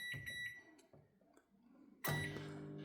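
A microwave oven cooking bacon in a lidded bacon cooker gives a few short, bright electronic beeps at a moderate distance, then a sudden louder surge of sound as the oven starts up and holds steady.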